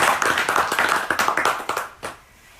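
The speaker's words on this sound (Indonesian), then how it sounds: "tepuk tangan buat Steve." A crowd claps for a speaker at a home fellowship gathering in Chunglie, Taiwan. The dense, steady applause lasts about two seconds, then thins to a few last claps and fades out.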